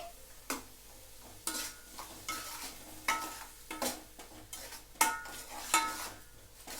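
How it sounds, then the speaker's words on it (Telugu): Tomato juice frying with spices in a pan for a sea-fish tamarind curry, heard as a soft steady sizzle broken by repeated scraping and stirring strokes of a utensil against the pan, close and alone. "టమాటా జ్యూస్ కూడా ఇలాగ దీంతో పాటు వేగిపోద్ది"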